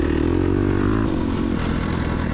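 An off-road dirt bike roars loudly and steadily over loose dirt, its engine pitch dropping partway through, with faint clatter and no voices.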